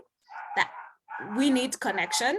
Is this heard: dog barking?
yes